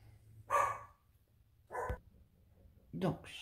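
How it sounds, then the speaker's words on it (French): Dogs bark in three separate short bursts, somewhat distant, over a quiet background. "tous les chiens qui se mettent à aboyer"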